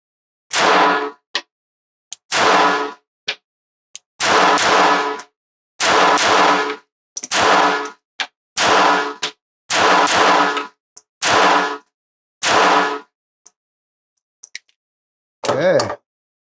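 A series of sharp, loud pistol shots from an S&W Bodyguard 2.0 and a Glock G42 on a shooting range, fired one at a time in a quick, uneven rhythm, with a brief pause before the last few reports.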